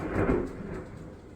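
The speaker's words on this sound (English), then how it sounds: "Did y'all hear that clap of thunder? We may have a storm around here today." A low, rumbling thunderclap rolls through briefly, broad and muffled, fading out over a second.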